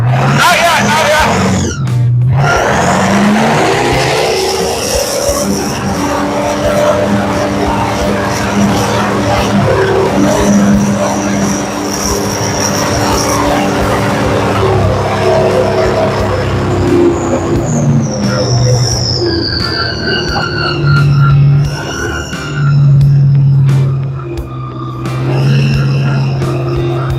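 A V-drive boat engine runs at full throttle, a loud sustained roar with shifting pitch that rises and falls, with voices briefly audible over it near the end.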